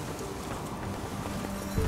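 Steady clip-clop of horse hooves in The Witcher 3 video game, running at a quick, even pace, moderately loud against a busy background with a faint tonal hum.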